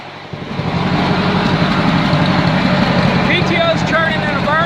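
A 1950 Ford 8N tractor engine runs with its PTO turning, giving a loud, steady, rumbling drone that holds for several seconds. A voice briefly joins near the end.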